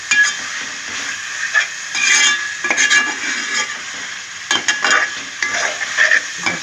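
Mutton keema frying in hot oil, a loud continuous sizzle with a spatula scraping and stirring it around the pan in uneven strokes, close up and with no talking.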